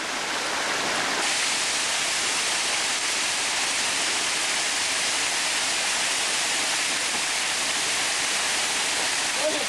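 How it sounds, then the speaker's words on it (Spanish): Heavy rain pours down in a ravine, a dense, loud, steady roar of water that fills the whole scene without a break and with no voices over it. "Toma, llueve, tío. Llueve a saco"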